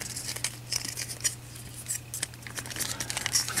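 Rapid plastic clicks and crinkly scraping as the shell of a Teenage Mutant Ninja Turtles Mutations transforming action figure is folded back into place, close and fairly busy throughout with no voices.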